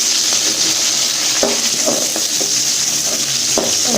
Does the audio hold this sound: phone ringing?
no